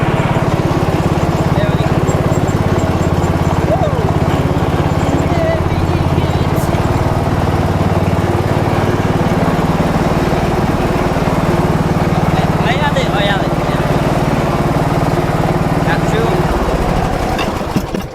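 Ride-on lawn mower tractor engine running close by, a steady loud drone with a rough mechanical texture that fades slightly near the end, while someone talks over it at times.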